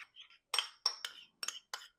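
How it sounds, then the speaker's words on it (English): A spoon clinks against a bowl while salad dressing of mayonnaise, pepper, salt and red wine vinegar is stirred: about six quick, close, light metallic taps in an uneven rhythm, with nobody talking. "Give this a little stir."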